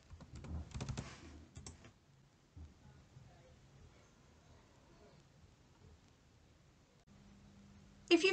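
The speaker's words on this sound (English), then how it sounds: "In the library search box, type in the keywords or the book title and the author's surname if you know it." Computer keyboard typing keywords into a library search box, a quick burst of close clicking keys at the start, then a few faint taps and low room hiss, with no talking.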